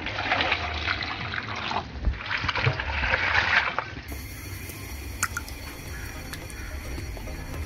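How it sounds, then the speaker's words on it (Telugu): Lukewarm water pours and splashes into a plastic bowl in two bursts of gushing flow, then trails off into quieter drips and settling sounds. "ఇప్పుడు కాగినటువంటి గోరువెచ్చని వాటర్ ని ఇందులో పోసుకుందాం।"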